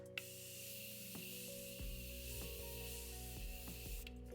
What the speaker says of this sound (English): let me go ahead and spray some finishing spray on here.